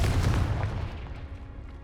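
A fire spell detonates in the Hogwarts Legacy video game, a dense rumbling blast that decays over about two seconds, loud and close with no talk.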